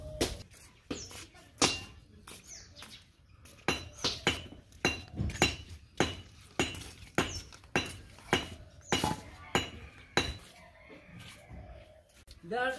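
Fresh tomatoes being washed and cut with a knife, mostly a long run of sharp, close taps and clinks in an uneven rhythm with short pauses between, and a voice speaking at times.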